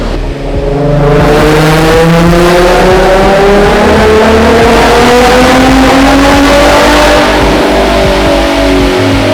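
A loud, tuned naturally aspirated VQ35HR engine in a Nissan G35 drift car revs hard and continuously on a dyno, its pitch rising and falling with throttle, close up and dominating throughout.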